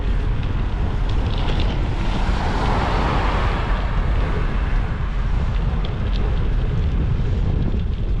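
Cold wind buffeting the microphone while riding a bicycle through city streets in Poltava, a loud, constant roaring rush throughout, close and unbroken, with no talking.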